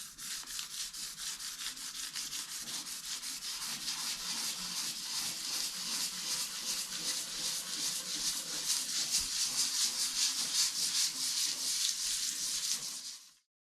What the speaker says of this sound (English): I now have the hull scuffed up lightly